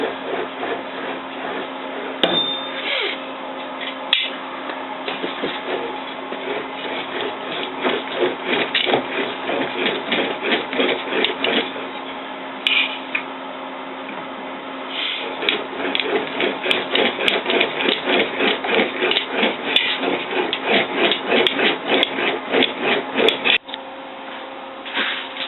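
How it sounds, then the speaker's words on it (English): Sheet metal for a handmade motorcycle fender worked on an inexpensive English wheel, a rapid repetitive rolling rumble and metallic rattle that runs steadily with brief pauses and occasional sharp knocks. "Because I just have a cheaper English wheel."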